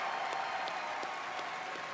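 A crowd claps at the BlizzCon 2023 reveal of World of Warcraft's tenth expansion, The War Within: a short, dense burst of applause that stays at a constant loudness.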